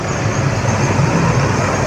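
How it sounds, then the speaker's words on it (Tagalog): A passenger jeep on a road near Unisan in Quezon gives off a loud, steady broadband rumble of engine and road noise, close by and continuous, with no voices. "Ay, ito jeep po, Unisan no."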